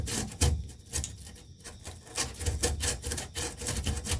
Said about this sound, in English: and just rough it up a bit